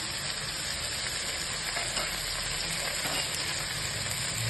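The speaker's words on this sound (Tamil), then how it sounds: "ஒரே ஒரு தக்காளி, அதெல்லாம் வதங்கிட்டோம்." Mint and a single tomato sauté in oil in a pan for biryani, giving a steady, close sizzle and crackle that runs evenly throughout with no talking.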